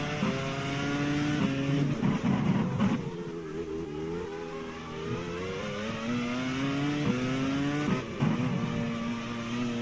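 A Formula 1 racing car in a 2002 F1 championship video game, its engine revving hard and rising in pitch as it accelerates through a corner, with gear changes breaking the whine. The engine stays loud and close throughout.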